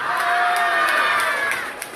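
A live stage show audience at Khanapara cheers, shouts and whistles in a loud, dense crowd roar, with sharp whistles cutting through, close and unbroken throughout.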